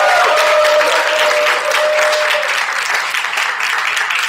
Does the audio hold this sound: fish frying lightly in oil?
no